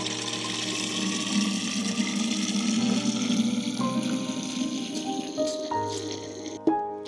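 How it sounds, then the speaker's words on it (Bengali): Water running steadily into a garden sprayer as it fills with one litre, a continuous close gurgling rush with rising tone and a few clunks near the end. "1 লিটার জল ভরবো।"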